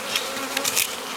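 Honey bees buzzing inside a nuc hive make a steady, close, high droning hum, with brief louder swells as individual bees move near, and no talk.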